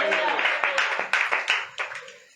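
A congregation at a Christian home prayer gathering claps together in praise, with loud, rhythmic, evenly spaced handclaps close by and voices speaking over them.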